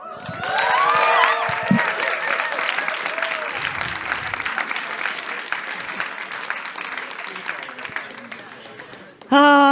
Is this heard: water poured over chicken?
no